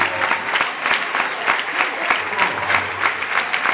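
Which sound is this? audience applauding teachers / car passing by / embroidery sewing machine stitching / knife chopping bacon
audience applauding teachers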